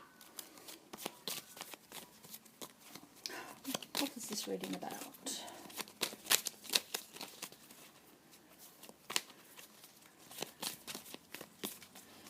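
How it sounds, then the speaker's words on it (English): Tarot cards shuffled by hand give a run of crisp riffling and slapping bursts, close and fairly soft, as a person speaks quietly over them. "just going to shuffle the cards."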